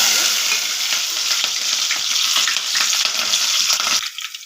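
Green chilies sizzle and crackle steadily in hot oil for an eggplant curry, a loud, close, continuous frying hiss with stirring scrapes, fading slightly at the end.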